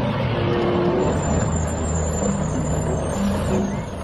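Toy garbage truck sounds play steadily at close range, a continuous mechanical engine-like drone with a faint high whine running throughout, no talking over it.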